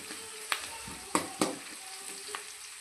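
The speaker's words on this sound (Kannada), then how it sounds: "ನೀರುಳ್ಳಿ ಸ್ವಲ್ಪ ಕೆಂಪಾಗುತ್ತೆ ತನಕ ಹೀಗೆ ಕೈ ಹಾಕ್ತಾ ಇರಬೇಕು" Chopped onions fry in a pan with a soft, steady sizzle while a spoon stirs and taps against the metal a few times, all quiet and close, for a quick potato dish.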